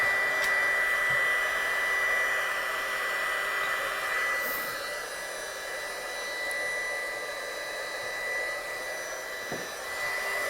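A heat gun warms up before embossing on cardstock, giving a steady, loud blowing whir that runs unbroken and close for the whole stretch, with no voices.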